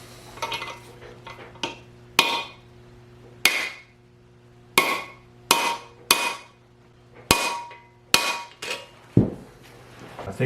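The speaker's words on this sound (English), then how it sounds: "we're going to strike this, see if we can get these races moving" Hammer blows on drifts driving out a pinion bearing race, sharp metallic strikes repeating about every second or so across the span, close and loud, each ringing briefly before the next.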